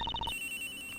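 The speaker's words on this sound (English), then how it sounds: "sounds like the phone is up in the flight attendant's room" A phone ringtone in the Ace Attorney Investigations video game, a quick series of bright electronic trills that stops abruptly after a fraction of a second, leaving a steady tonal hum.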